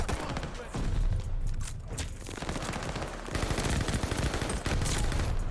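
Rapid bursts of Marco-5 submachine gun fire in Call of Duty: Vanguard, dense and close with repeated volleys across the clip under a busy in-game mix.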